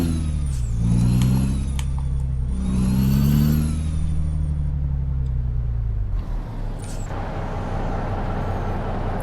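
A Volvo VNL 670 truck pulls away in American Truck Simulator, its loud engine revving up through a rising then falling tone, with an air-brake hiss partway through, then settling into a steadier rumble.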